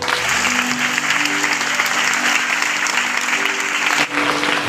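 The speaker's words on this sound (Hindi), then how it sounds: "तो उसी के नाम में ताली बजाइए।" A church congregation bursts into steady, dense hand-clapping at a Hindi sermon gathering, loud and continuous for several seconds before tapering off briefly near the end, with no voices over it.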